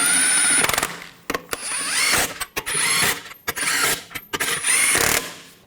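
Lug nuts being run down on a Buick Encore rear wheel with a power tool, loud close bursts of whirring and ratcheting separated by short pauses, no talking.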